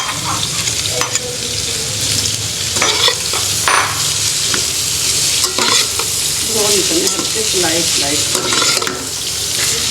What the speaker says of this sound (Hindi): अब हम इसमें प्याज डालेंगे।